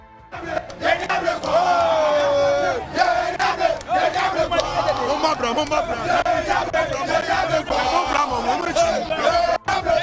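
A raging crowd protesting a demolition order for temporary structures, shouting and chanting together in loud, continuous bellowing with rising cries and a surging roar close by.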